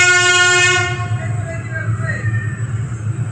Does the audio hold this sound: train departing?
yes